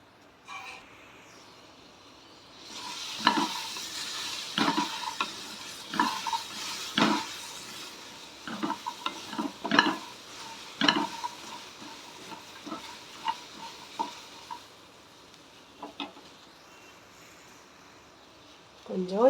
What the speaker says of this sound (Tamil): வெண்டிக்காயை இப்போ வளவளப்பு தன்மை இல்லாமல் நம்ம வதக்கிக்கலாம்.